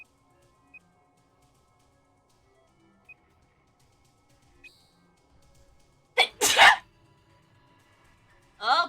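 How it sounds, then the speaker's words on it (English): A single sneeze sound effect from the video game Zero Escape: Virtue's Last Reward, a sharp close burst after near silence broken by a few faint ticks, with a short extra breathy sound at the very end. "That was a sneeze."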